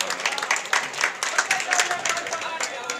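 A mushaira poetry audience in Mubarakpur, India breaks into lively applause, close and energetic, with some crowd murmur mixed under the clapping.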